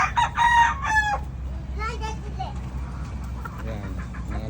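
Young local banded stags, gamefowl roosters raised for harvest, crow close by in strained, cracking calls, two or three overlapping crows early on, then fainter ones over low background noise.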